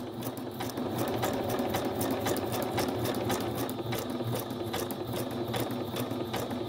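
Sewing machine stitching a small zigzag, a fast steady mechanical clatter of needle strokes repeating evenly and close, with no talking over it.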